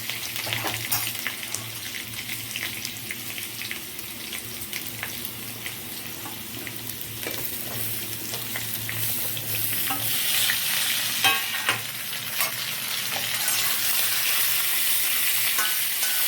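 Ridge gourd pieces fry and get stirred in a hot pan, a dense close sizzle with scattered utensil scrapes, steady throughout and swelling slightly toward the end, no talking.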